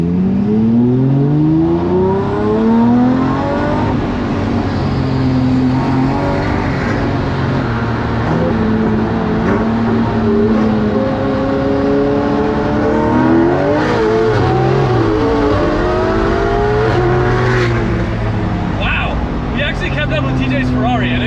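Gated-shifter Lamborghini Murcielago and a twin-turbo tuned Ferrari accelerating hard side by side, engines roaring and climbing through gears in a loud, sustained near pass, with people talking over the noise.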